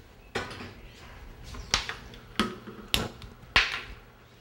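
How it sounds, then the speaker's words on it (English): Metal pots and pans clank in a home kitchen as a pot of sorrel and cranberry coulis is set on the cooker, five sharp separate knocks, close and clear, with quiet handling between them. "I'm just going to go and put it on the cooker now."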